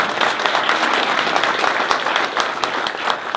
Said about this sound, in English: Everybody give a hand clap for my employee, Jasmine.